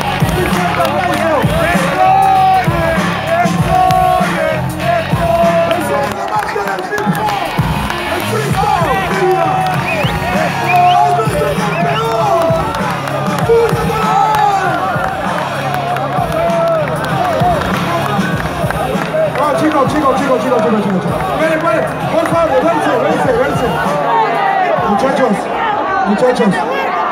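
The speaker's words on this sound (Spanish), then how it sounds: "Un fuerte aplauso." A rap battle crowd cheers, claps and whoops in a dense, loud, sustained roar. Voices and chatter run through it throughout.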